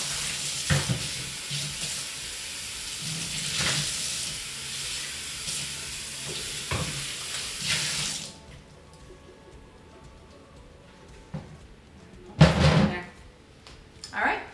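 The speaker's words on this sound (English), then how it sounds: "I pour my soap on top of it and then just rinse it out" Running tap water rinses soapy residue out of a Blendtec Designer 725 blender jar, a loud steady hiss of flowing water for several seconds that cuts off, followed by quieter handling clatter and a brief splash.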